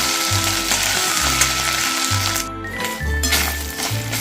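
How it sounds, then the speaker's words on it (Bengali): Flour sautéing in a pan over a low gas flame, a steady soft sizzle with rhythmic scraping and stirring strokes against the pan, close by and without speech. "এক দু মিনিট ধরে এটা ভালোভাবে কষিয়ে নিতে হবে আটাটা"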